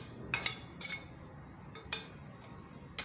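A small vessel of broken candle wax is lowered into a pot of boiling water as a double boiler for homemade cracked-heel cream, giving a few light, close metallic clinks and taps with no talking.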